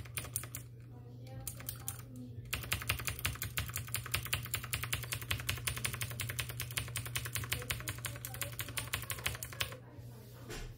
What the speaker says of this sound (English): Now I'm gonna press the hotkey again to get into the boot menu.